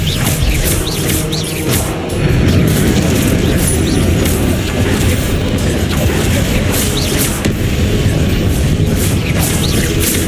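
In Hogwarts Legacy, the Expelliarmus spell is cast amid loud, dense combat noise: heavy booms and crashes layered over a continuous roar.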